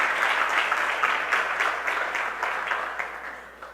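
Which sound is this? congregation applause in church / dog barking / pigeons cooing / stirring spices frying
congregation applause in church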